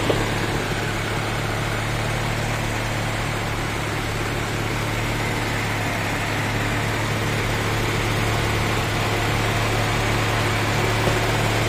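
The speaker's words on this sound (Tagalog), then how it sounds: "Ayan ang makina niya." Engine of a 1995 Mitsubishi Galant VR4 automatic idles steadily, a close, constant low hum with a smooth even drone and no revving or talk.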